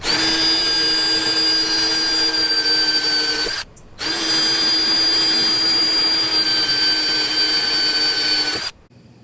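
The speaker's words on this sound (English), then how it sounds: "We're going to drill my pilot holes so that I can start the screws." A loud, steady whine of a cordless drill boring pilot holes close by, stopping briefly, then running again for several seconds before cutting off.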